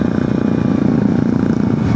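Suzuki V-Strom motorcycle engine running steadily and close by on a touring ride, with a dense, continuous low rumble and no voices.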